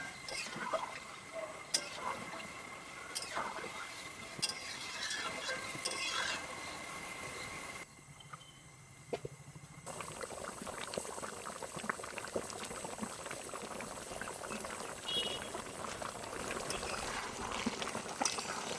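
Shankar fish curry simmers gently after water is added, a soft, continuous bubbling with occasional light clinks, faint and close, with a brief quieter pause midway.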